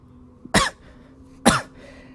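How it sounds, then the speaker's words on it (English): Two separate harsh coughs about a second apart, close and fairly loud, with quiet background between them. "And it's at this point you hear coughing"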